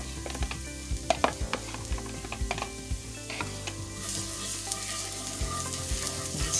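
Chopped garlic fries in a skillet with a steady sizzle, broken by repeated sharp clicks and scrapes of stirring. The hiss grows brighter toward the end, and no one speaks.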